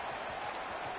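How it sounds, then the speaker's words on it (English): Roaring football stadium crowd cheering after a score, a dense, steady wash of noise like applause that fills the whole short moment without a break. "this crowd is buzzing after that last score"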